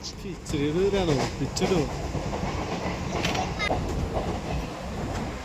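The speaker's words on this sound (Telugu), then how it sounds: "నెరల్ స్టేషన్ నుంచి లోకల్ ట్రైన్ తీసుకొని కుర్లా వెళ్ళాం" Steady rumble and rattle of a moving Mumbai local train running from Neral to Kurla, with voices and snatches of talk over the continuous clatter.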